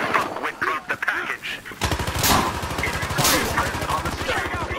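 Rapid automatic gunfire from the online shooter Battlefield Hardline during a bank job heist round, bursting loud and continuous through the second half after a quieter stretch with scattered shots, with players talking faintly underneath.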